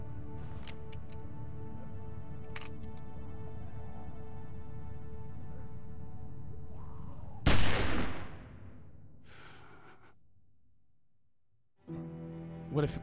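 A single sharp, loud gunshot cracks in The Walking Dead video game and rings out in a decaying tail, preceded by a low game ambience and followed by a brief second burst of noise.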